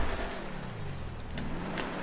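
Engine of an Imponte Phoenix muscle car in a GTA video game, a steady mid-level drone as the car drifts, with pitch sweeping and brief high tyre-squeal flecks near the end, no talk.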